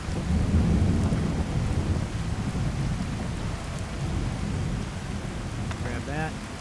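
Rain pours down with rolling thunder in the video game Skyrim, a heavy low rumble fading under a steady hiss of falling rain, with a brief snippet of voice near the end.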